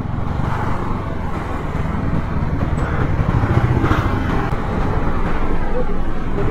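Heavy road traffic sits in a long jam on a bike route between Jammu and Kashmir. Motorcycle engines and other vehicles keep up a continuous loud rumble at close range.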